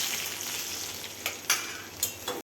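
Ginger and garlic tossed into hot oil with asafoetida and curry leaves for a sprouted moong masala, a steady close sizzle punctuated by a few sharp spatula clinks and scrapes before it cuts off abruptly.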